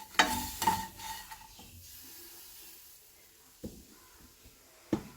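Whole spices (cinnamon, star anise, mace, cardamom, cloves and a bit of nutmeg) dry roasting in a pan, with a few sharp scrapes and rattles of stirring over a faint hiss, then quiet with occasional knocks.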